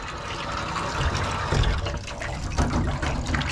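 While an Aussie dog is bathed, water runs and drains through a strainer full of hair, giving a continuous splashing, gushing flow with a few heavier thuds and sloshes.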